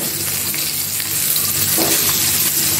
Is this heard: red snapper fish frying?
yes